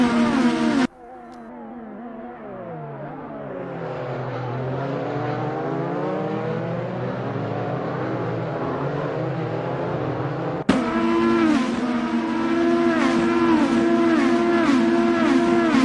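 IndyCar race cars in an Assetto Corsa race at the Honda Grand Prix of Montreal, engines droning loudly and continuously, pitch sweeping as cars rev and shift down the straight, with a sharp jump to a louder close pass near the end.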